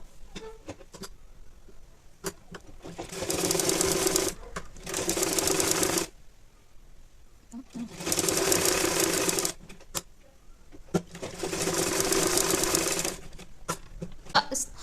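A sewing machine stitches around the edge of a baby saliva towel in four long bursts of rapid mechanical clatter separated by pauses, with softer handling clicks between runs.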